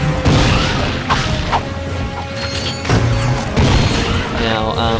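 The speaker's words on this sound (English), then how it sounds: "Change to the gravity bomb." Gravity bomb explosions in Ratchet & Clank 2 on Planet Oozla: several loud, crunching booms and crashes in quick succession amid constant game effects, with someone talking over them.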